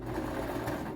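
A sewing machine back stitching fabric for a face cover runs in a fast, steady mechanical whir, close and even for its brief duration.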